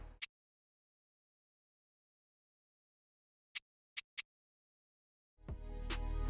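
Counter percussion from a drill beat played solo: a single sharp hit, a pause, then three quick dry hits in a row, before a fuller beat kicks back in at the end.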